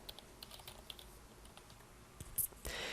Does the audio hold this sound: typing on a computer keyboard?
yes